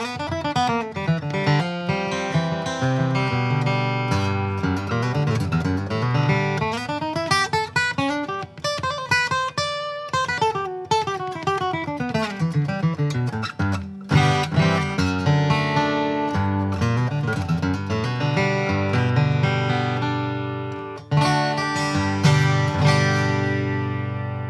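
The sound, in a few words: acoustic guitar with cedar top and Brazilian rosewood back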